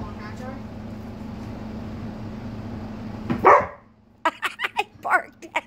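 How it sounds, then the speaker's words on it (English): A dog barks several times in short bursts near the end, following a steady hum and a loud thump; voices are heard talking earlier. "He barked at it."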